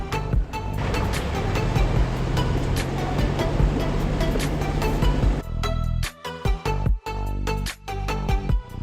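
A 4WD ploughs through a water crossing on an offroad Pilbara track, with a loud continuous rush of splashing water followed by heavy thuds and jolts as the vehicle lurches out.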